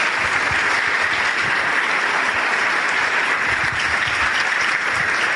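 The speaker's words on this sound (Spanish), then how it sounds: "Yo les pido para todos estos líderes un gran aplauso de agradecimiento." Sustained audience clapping at a seminar in Armenia, a dense, even wash of applause that holds steady from start to finish without any voices.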